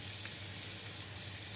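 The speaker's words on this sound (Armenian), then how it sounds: "ու ձիթապցել ձետ եմ լցել, այսպես մի 2 րոպե էլ կարմրացնեմ, թեթևակի" Pork frying in sunflower oil, previously parboiled and seasoned with salt, red pepper, dried citron, onion and herbs, gives a steady, even sizzle that runs throughout without a break, alone with no voices.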